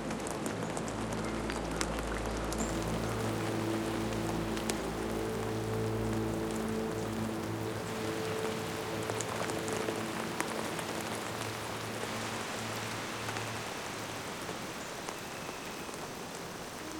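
Steady rain pattering on surfaces outdoors, a dense continuous hiss with scattered drop ticks, loud and close, holding its level throughout with a low hum underneath early on and no talking.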